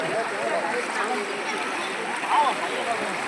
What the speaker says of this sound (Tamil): ஃபுல்லாகவுமே தண்ணி வருது